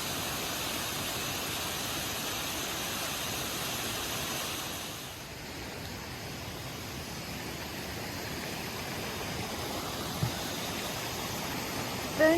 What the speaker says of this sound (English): the spray from the waterfall was a bit too much